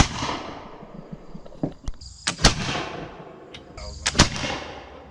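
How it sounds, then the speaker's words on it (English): Brown Bess flintlock musket fired with a 70 grain charge at an outdoor range, heard as a few sharp cracks and booming reports with echoing tails over a steady rumble of background noise. "we're shooting a brown bess. First we're shooting a 70 grain charge."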